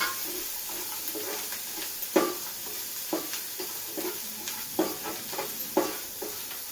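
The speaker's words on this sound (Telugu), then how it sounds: "ఫ్రై చేసుకునే చికెన్ ముక్కలు ఇందులో వేసుకొని కలుపుకోవాలి" Fried chicken pieces being stirred into a tomato pickle, village-style instant tomato chicken pickle, giving soft scraping and stirring strokes over a faint sizzle, with several sharper knocks spaced through the stretch and no voices.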